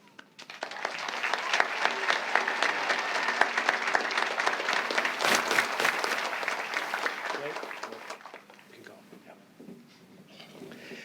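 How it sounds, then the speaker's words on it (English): Audience applause at a high school graduation commencement, steady and sustained for several seconds, then fading out, heard from some distance in a large room. "please join me in another round of applause recognizing these students and their parents for their achievements"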